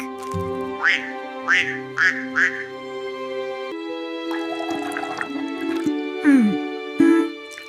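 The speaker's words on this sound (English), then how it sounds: "Who is this? A duck?" Several loud, quick duck quacks in a short burst, followed by more scattered quacking with splashy water sounds, heard close up in a park alongside a person talking.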